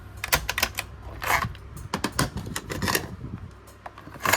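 Clicky mechanical buttons on a Panasonic RX-FS25 portable cassette radio tap out in quick irregular bursts over a low background hum, close and fairly quiet.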